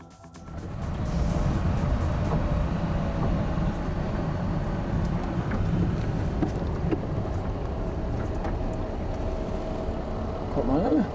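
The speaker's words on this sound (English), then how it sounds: "race the Carrera GT with aftermarket exhaust from a roll from 50 km/h" A Porsche Carrera GT with an aftermarket exhaust accelerates hard from a rolling 50 km/h, its engine a loud, sustained roar with a rising tone toward the end, overlaid with wind buffeting.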